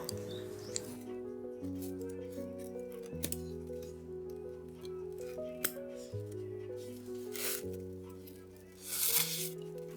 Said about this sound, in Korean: 루피실의 위쪽을 보면 이렇게 묶여 있을 거예요. 가위로 잘라주세요.